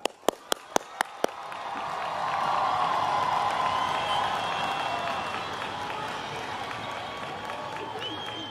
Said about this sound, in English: give a warm welcome and a huge round of applause to Eagles Landing High School Class of 2022, valedictorian Tajrin Rendaha